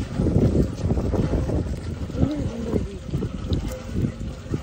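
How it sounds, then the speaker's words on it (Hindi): Strong gusting wind and heavy rain lash an outdoor spot during a storm, rumbling and buffeting the microphone, with a voice briefly heard amid the noise. "आंधी आ रही बारिश भी आ गई बहुत ज्यादा"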